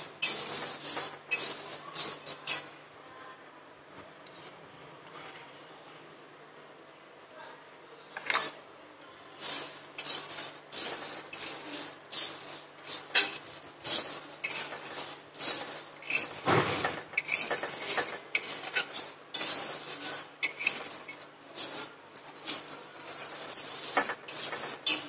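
Black chickpeas are dry-roasted in a pan and stirred, giving a close, busy rattle and scraping of hard grains and spoon against metal in irregular bursts, with a quieter pause early on.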